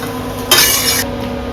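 Chicken fried rice being stirred in a pan, a brief scraping, rustling burst of a spatula moving the rice over low background noise.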